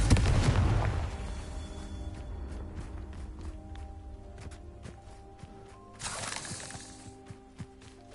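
A Confringo fire spell blasts in Hogwarts Legacy with a heavy explosive boom up front that fades into crackling debris, then a second, smaller burst follows near the end.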